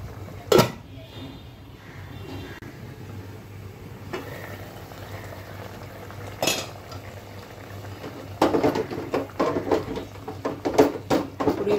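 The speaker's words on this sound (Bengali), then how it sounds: "এখন আমি এটা ঢাকনা দিয়ে ঢেকে দিব, আর তার আগে একটু কাঁচামরিচ দিয়ে দিচ্ছি।" A pot of rohu fish curry with green chillies simmers quietly; a lid clanks onto the pot in a few sharp metallic knocks, followed by a run of light clinking and rattling of utensils.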